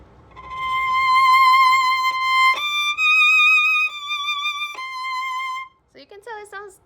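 Violin playing an excerpt from Jupiter with no vibrato on the eighth notes: a few held, steady-pitched notes with plain tone and clear note changes, fading into a short trailing bit at the end.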